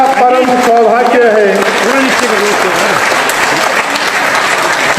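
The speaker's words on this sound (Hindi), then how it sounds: "2 मिनट तक तालियां बजती रहनी चाहिए।" An audience at a political gathering breaks into sustained, loud applause while a voice speaks over the clapping throughout.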